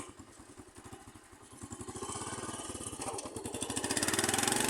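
A motorcycle engine chugs with a steady thumping rhythm, revving up louder and faster toward the end, close by; the motorcycle's clutch is faulty.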